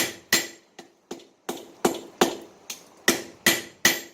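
Ten sharp metallic hammer strikes from the flat face of a hammer forging a chef knife blade ring out at a steady, slightly uneven pace, each blow loud and close with a brief ringing decay.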